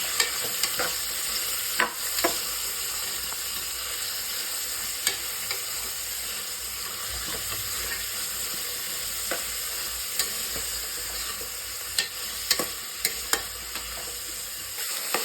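Vegetables for pulav fry over a high gas flame in a pan, a continuous close sizzle and hiss with scattered sharp clicks and scrapes as the mix is stirred.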